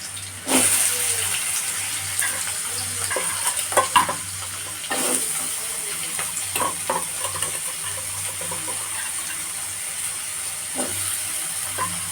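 Large chunks of potato frying in oil in a home kitchen pan, a steady loud sizzle and hiss throughout with occasional stirring scrapes and clatter.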